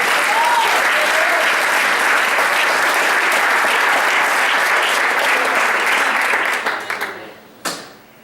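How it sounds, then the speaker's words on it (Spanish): A church congregation gives loud, sustained applause for the Lord during a Spanish-language sermon, a dense steady wash of clapping that holds for several seconds before tapering off, followed by a few final claps. "Dele fuerte aplauso al Señor"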